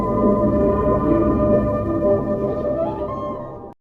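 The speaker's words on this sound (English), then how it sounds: "This is how whales communicate across the vast distance in the ocean" Whale calls ring out as a steady, dense drone of layered tonal moans and low rumbles, loud and continuous for several seconds before cutting off abruptly.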